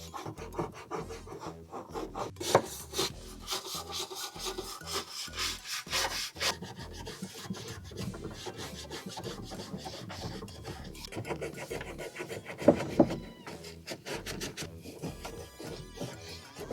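A painted tool is scrubbed by hand to strip the paint, giving rough, rasping strokes in an uneven rhythm, close and moderately quiet, with a couple of sharper knocks near the end.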